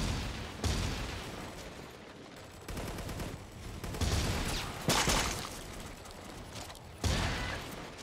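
Gunfire in the Foreign Legion video game, with rapid shots and sharp individual cracks coming in waves over several seconds and carrying steadily with no talking.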